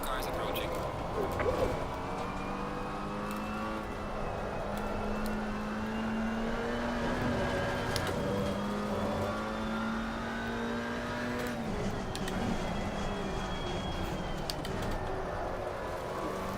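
A McLaren 570S GT race car engine drones in Assetto Corsa Competizione at Spa, a steady, rising engine note heard from inside the car, with a voice talking over it.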